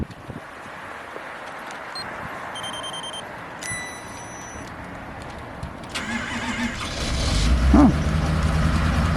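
A diesel engine cold-starting below zero: chimes and beeps sound first, then the starter cranks and the engine catches around the midpoint, rising into a loud, rough, low idle close by.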